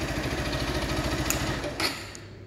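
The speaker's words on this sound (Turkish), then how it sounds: "Evet, gördüğünüz gibi bu şekilde de bir motor çalışması ve egzoz sesi var." A Zontes ZT200-C chopper motorcycle idles close by, its exhaust giving a steady low rumbling pulse that dips near the end, with no talking.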